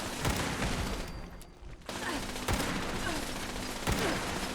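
Gunfire crackles in a Fallout 76 fight against turrets: bursts of sharp shots and booms in quick succession, fairly faint and dense with game noise, broken by a brief lull partway through.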